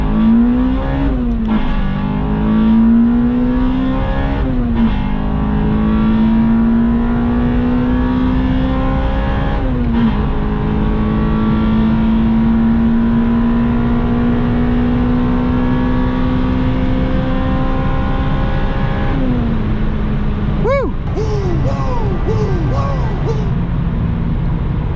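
A Honda Acura RSX Type S with a K20Z1 engine screams loudly as it accelerates hard on open road, its rising engine note climbing through repeated gear pulls, with a brief shift and rev drop near the end.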